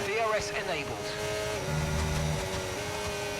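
A Formula 1 race car in the F1 25 game at Silverstone, braking into turn one with the battery on. A high, close engine whine drops through downshifts, then holds steady, under quiet talk.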